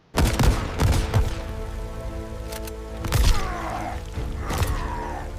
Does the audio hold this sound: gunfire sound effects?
yes